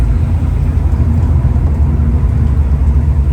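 Honda K20A Type R engine in a car build being driven, a steady loud low rumble and drone from inside the car, continuous and alone for a few seconds.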